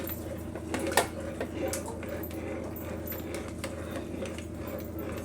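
A ladle stirs crab curry simmering in a pot, producing repeated clinks and scrapes of metal against the pot at an irregular pace over a low, steady background.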